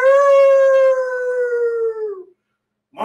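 A voice imitates a long wolf howl that begins loud and tapers off before a brief pause, and another voice starts right at the end.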